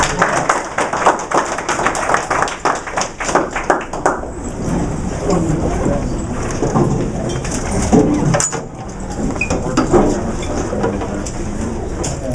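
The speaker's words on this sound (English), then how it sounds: "We give Max a hand of applause too." Audience applause for a guest speaker at a Georgia State event: scattered, fairly close hand claps over the first few seconds, then a continuous crowd noise with a few sharp taps.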